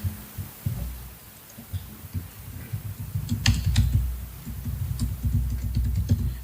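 Rapid keystrokes on a computer keyboard during a software development demo, a steady stream of soft clicks with a few sharper taps, heard fairly close over a low room hum.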